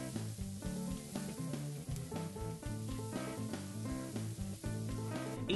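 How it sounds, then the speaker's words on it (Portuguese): Onion sautés in butter and olive oil in a frying pan, a soft, steady sizzle that sits beneath prominent background music for the whole stretch. "Adicione a cebola e refogue um pouco."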